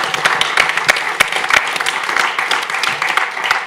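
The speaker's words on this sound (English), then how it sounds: "One more big round of applause for the panelists and artists here." A festival audience applauds panelists and artists after a panel discussion: many hands clapping, with sharp individual claps standing out close by in a steady, lively round.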